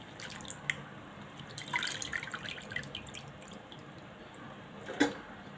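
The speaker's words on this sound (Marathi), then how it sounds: "चाळणीमध्ये मी घालणार आहे जेणेकरून याचं पाणी सर्व निथळून जाईल" Water drips and trickles through a sieve from washed grated potato in scattered splashes, with a few louder plops near the start and end, close by.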